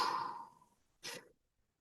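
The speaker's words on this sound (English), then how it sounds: "3 deep breaths here." A single deep, sighing exhale during a hip and psoas yoga stretch, trailing off into quiet, followed by a short sharp inhale, close and fairly soft.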